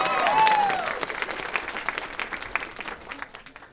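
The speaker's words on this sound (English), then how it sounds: "You can clap. It's okay." Audience applause breaks out during a 2015 interview with a Japanese manga creator, a steady patter of many hands clapping that starts full and gradually thins and fades over a few seconds, with a brief voice near the start.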